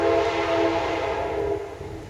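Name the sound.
passing train next to the house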